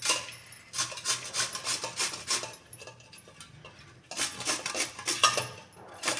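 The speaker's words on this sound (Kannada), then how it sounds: "ಈ ಥರ ತುರಿಮಣಿ ಮಣಿ ತೊಗೊಂಡ್ಬಿಟ್ಟು ನಾವು ಸೌತೆಕಾಯಿಗೆ ನಾವು ತುರ್ಕೋಬೇಕು" Fresh cucumber is rubbed against a hand grater in a kitchen, rhythmic raspy strokes in two bursts separated by a short pause, close and fairly loud with no voices.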